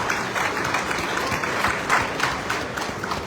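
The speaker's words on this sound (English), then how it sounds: "A round of applause for" Dense audience applause at an opposition political gathering, brisk and continuous clapping from a large crowd, fairly loud, with no speech over it.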